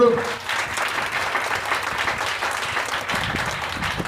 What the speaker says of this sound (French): Acclamons très puissamment Jésus